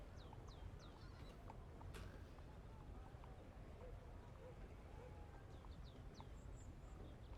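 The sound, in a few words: bird making a weird sound outside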